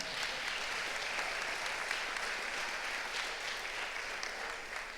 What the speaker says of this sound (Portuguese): Dá aplauso para ele